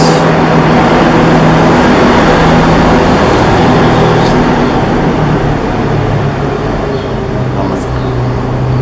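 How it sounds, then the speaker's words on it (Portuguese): A truck rumbles past on the road outside, a low, broad engine drone that swells and lingers for several seconds, with no one speaking over it. "Pausa pro caminhão, gente."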